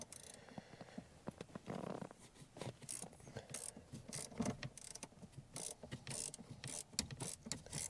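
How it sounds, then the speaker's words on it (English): A 10mm wrench loosening the positive battery cable on a Jeep Grand Cherokee with the 3.6L Pentastar, giving quick metallic ratcheting clicks in uneven bursts close by, with no talking. "You're going to loosen the positive battery cable just to disconnect the battery."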